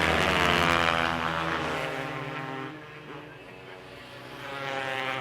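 A 2022 Kawasaki motorcycle racing on ice at over 80 mph sends a loud, high-revving engine whine past, close at first, then fading and swelling again, with no voices over it.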